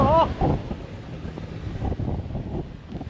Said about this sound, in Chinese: 这是又刮风又下雨，雨中又夹着雪，这风吹的嗖的啊